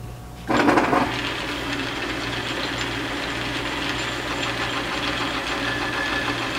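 A small metal lathe runs steadily with a low motor hum, then a louder scraping rush breaks in as the tool bites into large metal stock, continuing as a constant cutting drone.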